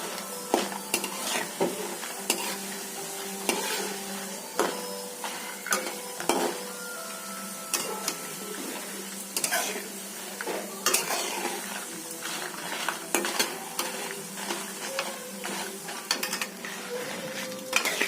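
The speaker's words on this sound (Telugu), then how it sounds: "ఆ ధనియాలు జీలకర్ర కూడా వేగేదాకా వేయించుకోండి బాగా" Coriander seeds and cumin roast in oil for karam podi while being stirred: a constant sizzle under repeated scraping and clinks of a spoon against the pan, close and busy, with no speech.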